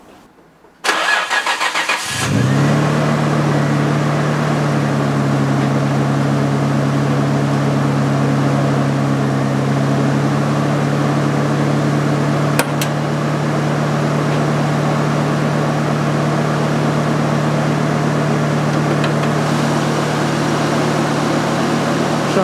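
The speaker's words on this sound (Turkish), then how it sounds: "Tabii cold start yapmış oldum ve daha yüksek devirde çalışıyor." A Nissan Skyline R34 engine catches after a cold start and settles into a loud, steady, elevated idle with a strong low hum, heard close up with the hood open.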